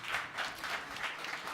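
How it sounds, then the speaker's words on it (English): Brief burst of audience applause at a conference, a soft, dense patter of many hands heard from some distance. "Big applause."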